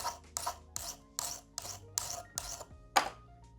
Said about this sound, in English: so that means we can continue sharpening